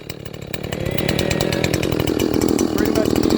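A ported Echo CS-550P chainsaw cuts through wood at high revs, its engine buzzing loud and steady under the bar load, with a voice talking over it.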